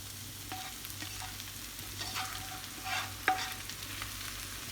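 A spoon stirs a filling for stuffed panini-style bread rolls in a hot pan, with a steady soft sizzle and several scraping strokes, one sharper clack near the end; no one talks.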